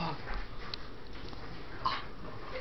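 A dog makes soft, faint sniffing and whimpering sounds against a steady background hiss, with a brief brighter yelp-like sound near the end.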